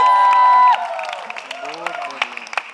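Audience clapping and cheering for Hina and Rocky at a TV show's grand launch, breaking out after a sustained voice ends and continuing as scattered claps beneath talk.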